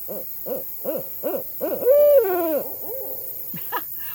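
A barred owl gives a run of rhythmic hoots leading into a loud, drawn-out wavering call, followed by softer trailing hoots.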